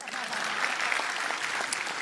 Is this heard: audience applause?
yes